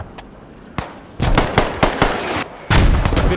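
Mortar salvo in Squad, a 40v40 military shooter with British forces: a run of sharp booming impacts, a few spaced hits then denser louder blasts toward the end, distant to mid-range with no talking.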